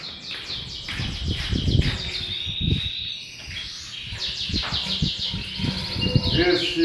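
Small birds chirp and tweet busily at close range, with dense overlapping calls and a few thumps and handling noises during feeding.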